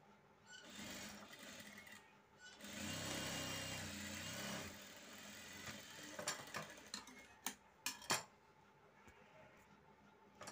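A sewing machine stitches a round neckline on a garment, running in a steady whirring burst for a couple of seconds before stopping, followed by scattered clicks and handling sounds of the fabric and mechanism.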